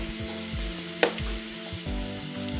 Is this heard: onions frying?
yes